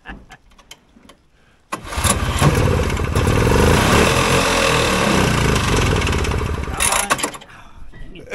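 Vintage Polaris Colt single-cylinder snowmobile engine firing up after a carburetor cleaning: a few faint clicks and talk before it catches, then a loud, rough, close idle for about five seconds before cutting out.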